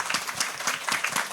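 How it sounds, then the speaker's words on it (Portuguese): Audience applause at a panel discussion on Villa-Lobos, honoring the Japanese consul-general; a short burst of steady, dense clapping from a nearby crowd. "uma salva de palmas"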